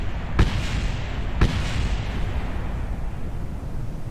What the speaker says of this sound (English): Those explosions you just heard were the other parts of my ship crashing into the ground